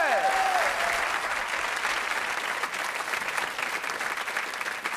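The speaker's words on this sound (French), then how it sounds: "sous les applaudissements du public" A studio audience at a French TV game show applauds steadily to welcome the comedian Homer onstage, the clapping dense and sustained throughout, with no talk over it.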